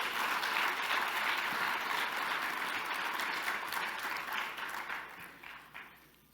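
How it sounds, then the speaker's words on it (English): Sustained applause from an audience at an awards ceremony honoring Men of Influence, dense and steady clapping that gradually fades toward the end. "let's give them one more round of applause."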